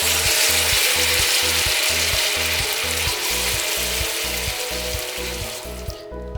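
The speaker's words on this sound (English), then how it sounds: "we're just gonna saute it because we want an extra depth of flavor" A steady, loud sizzle of chipotle paste sauteing in a hot pan, with a rhythmic low rumble running underneath throughout.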